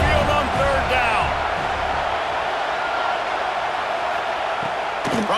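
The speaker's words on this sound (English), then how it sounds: "The Tide crowd rolling noise down onto Saban Field on third down." A roaring stadium crowd at Saban Field in EA Sports College Football 26, with Alabama's Crimson Tide fans rumbling steadily on third down. The broad, continuous wash of noise stays loud throughout, with a few voices rising out of it early on.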